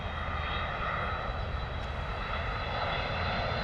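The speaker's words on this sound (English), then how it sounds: "A300 coming in." Delta Airbus A300 airliner landing at London Heathrow, a steady, loud engine roar holding at constant strength throughout, with no voices.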